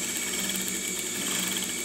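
A sewing machine runs steadily while stitching a pillowcase, with a continuous dense mechanical whir throughout and no talk.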